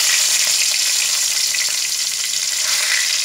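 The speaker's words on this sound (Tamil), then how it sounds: "கடுகு போட்டாச்சு, பொரியுது." Mustard seeds and cumin sizzle and pop in hot oil in a pan, a steady, loud crackling frying hiss that runs the whole time with no talk, early in cooking a tamarind prawn curry.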